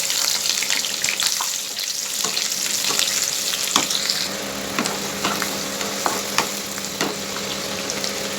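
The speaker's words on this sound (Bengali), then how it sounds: "তেল গরম হয়ে গেছে, এখন পেঁয়াজ দিয়ে দেবো।" Onions sizzle and fry in hot mustard oil in a kadai, a steady close crackling hiss with scattered sharp pops and occasional stirring scrapes throughout.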